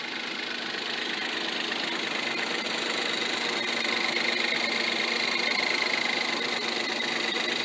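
A two-liter turbocharged EcoBoost four-cylinder idles steadily after a cold start, a close, even mechanical hum with a faint ticking clatter that holds constant throughout, no talk.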